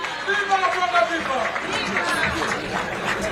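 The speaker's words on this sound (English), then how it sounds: "A big round of applause." An audience fills a room with dense, continuous applause for several seconds, with voices and crowd noise mixed in under the clapping.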